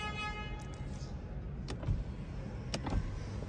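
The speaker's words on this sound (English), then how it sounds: "Close the windows." Electric power windows on a 2022 Nissan Ariya hum as they close, a steady motor whine under faint cabin noise with a few soft clicks and thumps as the glass seats, heard close inside the car.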